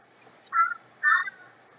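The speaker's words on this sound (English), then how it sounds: "that's a new crow. It's one of the babies. He sounds weird." A young crow gives two short harsh calls about half a second apart, oddly strained and turkey-like in tone, fairly close and alone against a quiet background.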